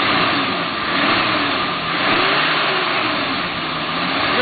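An off-road vehicle engine revs steadily at a mid pitch while crawling up a dirt hill on a trail ride, loud and close, with gentle swells in throttle and no talk.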